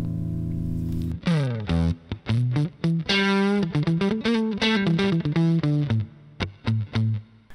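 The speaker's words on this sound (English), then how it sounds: "This is an old McPherson Rockbox distortion from about 10 or so years ago." An old McPherson Rockbox guitar distortion pedal, starved to about 3.8 volts, gives fuzzy, sputtering distorted guitar notes and chords that cut in and out over several seconds, loud and alone.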